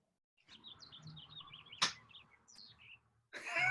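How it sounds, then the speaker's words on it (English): Several birds chirp and tweet outdoors in quick overlapping calls through most of the stretch, with a sharp knock partway and a burst of broadband noise at the end. "Can you hear the birds?"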